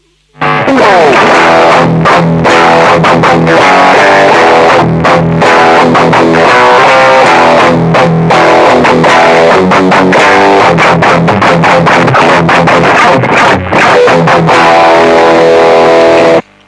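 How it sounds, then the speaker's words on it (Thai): A Dean C350F electric guitar, run through a mixer into a distortion effect, plays loud, sustained chords and riffs continuously, thick and gritty, with brief pauses between strums. "กีตาร์เข้ามิกเซอร์แล้วก็เข้าเอฟเฟกเสียงแตกนะครับ"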